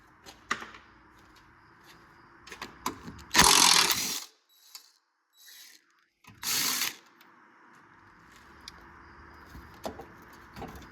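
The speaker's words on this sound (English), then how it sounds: "Next, we'll take off these top two condenser bolts. These are 8mm." A wrench or ratchet works on the 8mm top condenser bolts of a 2004–2008 Ford F-150 during an AC condenser replacement, giving two brief, close mechanical bursts of clicking, with quiet gaps and faint tool knocks around them.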